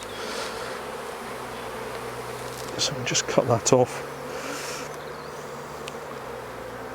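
Honey bees hum steadily around an open hive during a spring inspection, a soft continuous buzz with louder passes of individual bees close by, while a person speaks over it.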